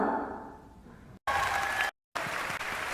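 Applause from a clapping character in the video game Final Fantasy Rebirth, heard as a dense, steady patter of claps that cuts out abruptly twice before resuming.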